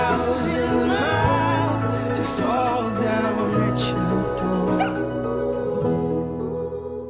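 Puppy in the Budweiser Puppy Love commercial gives high yips, short barks and whimpers that rise and fall over background music, fading out toward the end.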